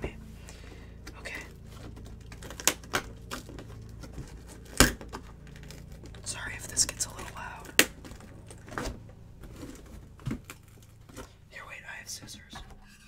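A large cardboard box being opened close up in a quiet room, with scattered sharp tearing, crinkling and tapping clicks spread irregularly throughout, one louder crack standing out, under a soft low hum.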